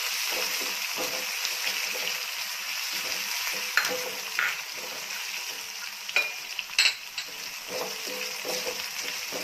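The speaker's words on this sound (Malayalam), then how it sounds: "ഈ കടുക് കറിവേപ്പിലൊക്കെ ഇട്ട ആ എണ്ണയിലേക്ക് നമുക്ക് ഇട്ട് കൊടുക്കാം" Crushed ginger, garlic and green chillies sizzle steadily in hot oil already holding mustard seeds and curry leaves, with a few stirring scrapes and brief spatters for a vada pav filling, close up and with no talking.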